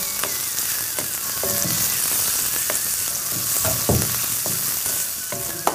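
Turmeric and salt fry in a pan at a steady, dense sizzle, with a few sharp scrapes and taps of a stirring spoon on a hotel kitchen stove.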